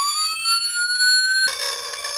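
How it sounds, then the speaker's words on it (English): A toy noisemaker's synthetic siren wails upward in pitch, then abruptly switches to a different harsher tone, loud and continuous with no talking. "Here's a siren."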